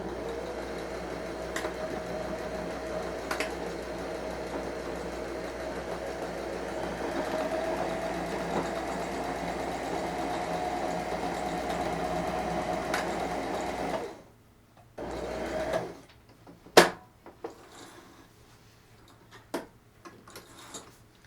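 A sewing machine stitches comfy pants from a Simplicity pattern, running in a steady close whirring hum for a long stretch before it stops, followed by a few light clicks and handling sounds.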